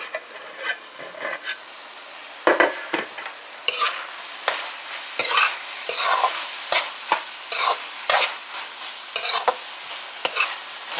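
Bora and chicken curry cooking in a pot, Guyanese style, with a soft sizzle under repeated close scraping and stirring strokes and clanks of a spoon against the pot, arriving in irregular bursts and with no talking.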